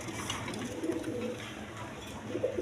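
Pigeons at a pigeon farm coo softly in low, repeated throaty phrases, faint against a quiet hiss of the room, with no one speaking.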